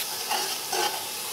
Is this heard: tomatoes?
yes